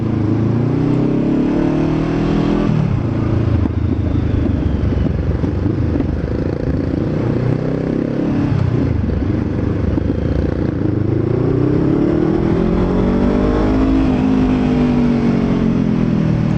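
Honda CBR500R parallel-twin motorcycle engine roaring steadily while riding and overtaking, with rising and falling revs under constant loud wind rush, no voices.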